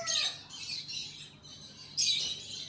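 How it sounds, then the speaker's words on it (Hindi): Birds chirp in a few high, soft bursts at a distance, with quiet gaps between calls and a louder chirp near the end. "और चिड़ियों की आवाज़"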